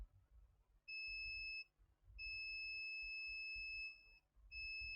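A multimeter's high, steady electronic beep sounds three times in long tones separated by brief gaps, with a low hum underneath, while testing a ceramic capacitor on a laptop motherboard.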